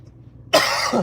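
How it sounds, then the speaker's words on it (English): A single harsh cough bursts out after a moment of near silence, close and loud, trailing into a brief rasp. "Now I've got a cough."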